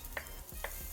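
Chili, ginger and onions fry quietly in a pan on medium heat, with a faint sizzle under two short stirring scrapes.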